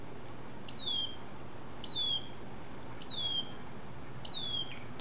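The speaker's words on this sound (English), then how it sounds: "This little bird is out here twice a day, every day. And he's always calling." A small bird calls four times at roughly one-second intervals, each a clear downward-sweeping chirp, fairly close and standing alone over a faint, steady outdoor background.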